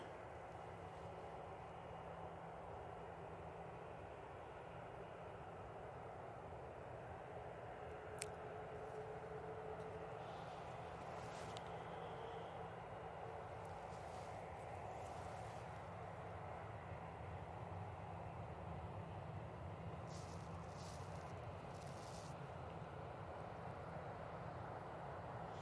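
An Airbus A220 airliner taxiing or taking off at Manchester Airport, a continuous distant jet engine rumble and whine holding steady throughout, with a few faint clicks over it.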